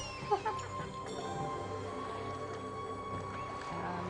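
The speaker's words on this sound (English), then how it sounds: "my cat's screaming in the background because she's about to go get fed her dinner" A pet cat yowling before being fed, a few brief cries near the start, then a steady low hum of game music and ambience with faint tonal calls underneath.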